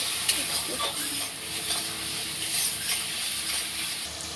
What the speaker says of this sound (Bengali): মশলাটা খুব ভালোভাবে কষানো হয়ে গেছে